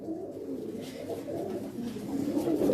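Pigeons in a breeding loft coo in soft, continuous low murmurs, the birds close by with a steady layered burble.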